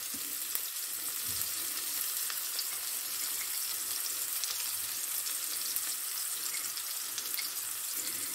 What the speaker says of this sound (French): Et là, je vais mettre mes oignons d'abord.